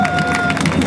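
Brief burst of crowd applause and cheering at a New Orleans festival in Erfurt during a boogie piano world record attempt, loud clapping over a sustained tonal hum and crowd babble.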